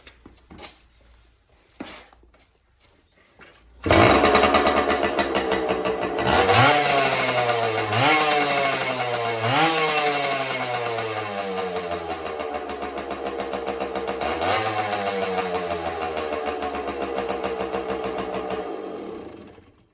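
A Suzuki JR 80 dirt bike with its bogging fault fixed starts up and idles. It then revs repeatedly in sharp rising blips and settles back into a steady, buzzy two-stroke drone. The bike sounds close and loud, with no talk.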